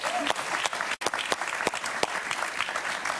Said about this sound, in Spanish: Un aplauso para Iván Espinosa, por favor